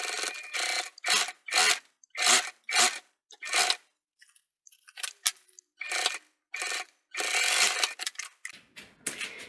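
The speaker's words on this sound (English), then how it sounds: "we're going to stitch on top of the crease" A sewing machine stitches along the crease of a bum bag in repeated short, close bursts of rapid whirring, with a quieter pause midway before longer runs resume.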